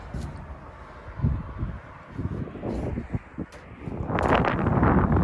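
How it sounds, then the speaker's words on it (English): Gusty wind buffets the microphone in rumbling waves high up on a lift at a fuel station canopy, building to a loud roaring blast near the end. "It's very windy up here"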